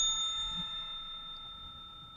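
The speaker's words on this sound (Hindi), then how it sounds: "तो मैंने पास में रखी घंटी बजाई।" A single bell rings out with a clear metallic tone that lingers and slowly fades, with nothing else going on.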